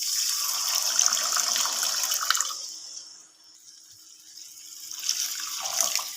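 Water pours from a jug into a pan of fried fish curry spice paste for macher jhal, a steady close hiss that fades midway and then swells again near the end.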